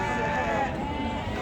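A sheep bleats briefly amid a crowded livestock market in Ganja, the call sitting over a dense, loud din of the bazaar with voices close by.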